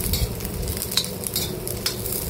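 Garlic dropped into already browned onions sizzles loudly and continuously in a pan, with a few light spoon scrapes and clinks over the dense frying hiss, close by and with no voices.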